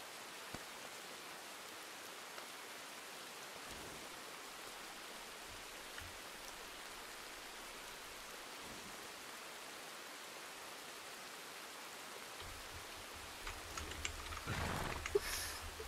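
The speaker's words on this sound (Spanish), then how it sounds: "no creo que pare muy pronto de llover" Steady rain in the Red Dead Redemption 2 video game during a storm, a faint, even hiss of falling water throughout with a few soft thuds and a brief louder swell near the end, no voices.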